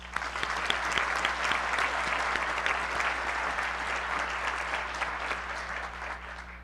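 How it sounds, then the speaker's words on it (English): Sustained applause from the audience at a college commencement ceremony, many hands clapping in a dense, even wash that stays steady throughout, heard somewhat distantly over a low hum. "Let's give them yet another applause."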